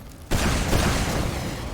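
Gunfire at a structure falling apart in the video game Aperture Desk Job, with a loud burst of shooting and crashing that starts abruptly after a brief quiet moment and keeps going dense and close.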